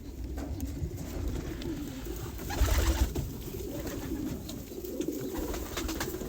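Homing pigeons in a loft give soft, low cooing calls that repeat through the whole stretch, close by and fairly quiet, with brief shuffling and rustling noises among the birds.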